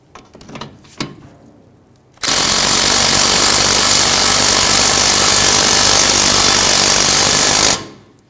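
A power impact tool tightens the nut on a tie rod end stud of a 2006-2012 Ford Fusion 3.0L V6, a loud steady hammering burst lasting about five and a half seconds after a few faint clicks.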